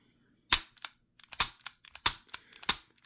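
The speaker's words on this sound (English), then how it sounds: "drop the mag, clear, safe to dry fire, unlike the Ruger." Dry firing an empty, cleared budget double/single-action pistol with a manual safety: a string of sharp, close metallic clicks and snaps from the trigger and action, irregularly spaced, with no talking.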